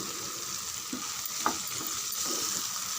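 Chopped green chillies and a sprig of curry leaves sautéing in hot oil, a soft steady sizzle with a few brief spatula scrapes and clinks, close by, no speech.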